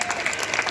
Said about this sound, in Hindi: भावना के लिए ताली।